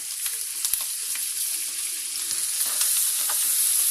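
Onions, tomatoes and mixed vegetables sautéing in a pan for a chicken vegetable soup, with a continuous close hiss of sizzling and occasional sharp clicks from stirring.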